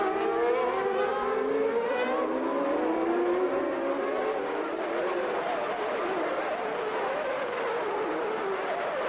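A pack of 1991 Formula 1 cars at a race start, their high-pitched engines screaming together and sweeping in pitch as they head toward the first chicane, with a commentator speaking over them.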